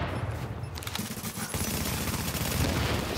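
Rapid, sustained gunfire in the online shooter Rogue Company, dense overlapping shots and bursts rattling continuously at close range with no pause.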